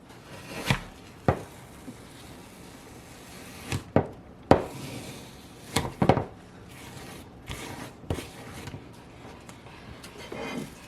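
A scoop scrapes repeatedly through stiff frozen ice cream destined for affogato, giving several sharp dragging strokes with short pauses between them, close and fairly loud, with no talking.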